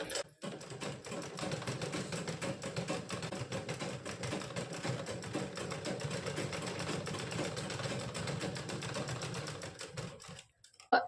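A sewing machine stitching a simple blouse runs steadily, its needle chattering in a fast, even rhythm for about ten seconds before stopping abruptly, with no talk over it.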